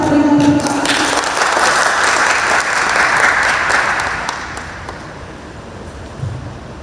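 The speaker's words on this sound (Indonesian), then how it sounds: "Hadirin kami hormati, kita berikan tepuk tangan." Audience applause at an ISO 9001:2015 certificate handover ceremony in Nusa Tenggara Timur, a loud sustained burst of many hands clapping that gradually thins and fades toward the end, with no talk over it.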